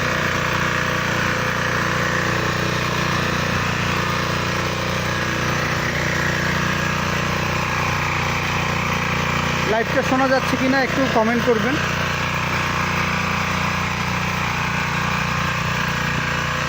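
Four-wheel 12-horsepower mini tiller engine running steadily throughout, a continuous loud mechanical drone with someone talking over it much of the time.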